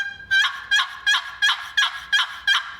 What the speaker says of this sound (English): Basically, the weight of the lid against the inside corner of this call is what makes the sound.